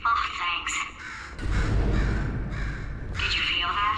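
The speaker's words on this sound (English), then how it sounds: "Could you, murder this bird for me?" A crow caws in the video game Portal 2, with harsh, close caws at the start and end and a synthetic voice speaking over a low rumbling hum in between.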